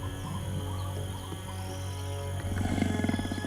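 Puma, also called mountain lion, giving a low, rumbling roar that swells toward the end over steady background noise in gallery forest in Colombia, close and sustained.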